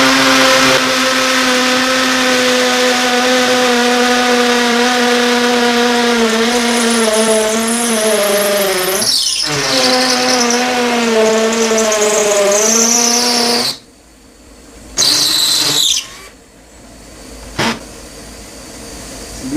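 A Black+Decker 18V cordless hammer drill (BCD003) grinds loudly and continuously, its pitch wavering under load, then stops and starts in short bursts near the end.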